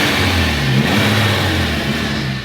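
A Mitsubishi Evo wagon with a twin-disc clutch accelerates hard while driving, its engine revving loudly and close with rising and falling pulls throughout.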